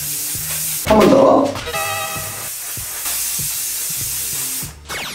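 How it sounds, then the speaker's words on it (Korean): Waterproofing spray hissing from an aerosol can onto the sole of a shoe indoors, heard as a short close burst followed by lighter spritzes, with a voice speaking briefly between them. "자, 이거 혹시 모르니까 바닥에도 조금 분사를 해줄게요."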